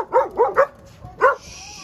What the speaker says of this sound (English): It meant for our dogs that they were going to have to learn to not bark at everything that went by.